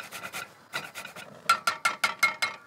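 Lemon zest grated against a rasp grater in quick repeated strokes, about a dozen rhythmic scrapes in small bursts, close and clear with no talking.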